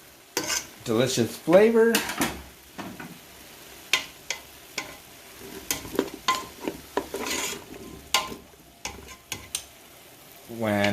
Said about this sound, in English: So I'm adding the garlic into the meat.